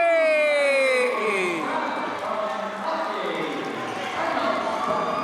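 A Spartan home crowd at a high school boys basketball game, West Bend West against Kewaskum, roars and cheers after a made three-pointer, with a loud sustained swell of voices and a commentator talking over it.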